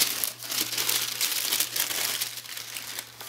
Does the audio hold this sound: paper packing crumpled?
yes